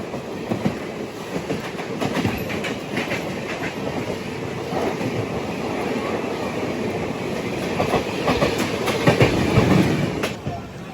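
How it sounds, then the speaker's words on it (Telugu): Seshadri Express train rolling along, heard from inside a general coach, with a steady, loud rumble of wheels and rhythmic clickety-clack over the rails, continuous throughout. "ఫైనల్లీ కదిలింది బండి."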